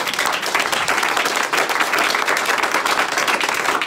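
A church congregation applauding during a service, dense loud clapping from many hands filling the room steadily, with a few voices faintly mixed in.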